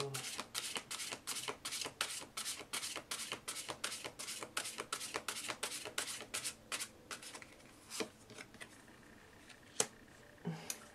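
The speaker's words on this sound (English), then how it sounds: "I'm going to pull a couple of cards for each of the oracles that are out here." Oracle cards are shuffled and pulled in a steady run of crisp riffling and flicking bursts, close and fairly loud, slowing toward the end with a few sharp single card snaps.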